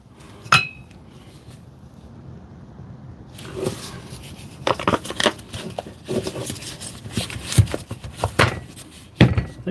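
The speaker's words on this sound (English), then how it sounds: "I think there's a good knock of the hammer" During a DeWalt tool repair, sharp metallic knocks and clinks sound close by, an isolated strike followed later by an irregular cluster of taps and clatter.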